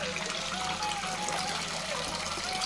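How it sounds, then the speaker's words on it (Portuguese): Water runs steadily from a stone fountain in Alte, Loulé, Portugal, a continuous close splashing and trickling stream with no pauses and no voices over it. "Olha a fonte que temos aqui."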